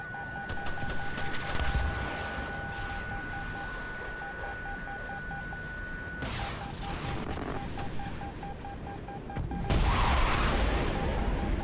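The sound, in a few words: missiles being fired in War Thunder video game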